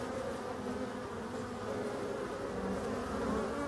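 Continuous buzzing of many honeybees and some bumblebees foraging in mid-October, a dense steady drone with no pauses.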